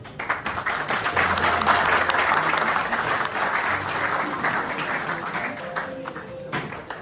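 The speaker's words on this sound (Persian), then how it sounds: "دوستان تشکر از اینکه سهم گرفتین، دیدین و تشویق کردین هنرمندای ما را، مخصوصا آقای ایوبی را" Diners at a restaurant evening of ghazal music and paintings applaud the performing artists. Full, steady clapping swells early, then thins and tapers before breaking off near the end.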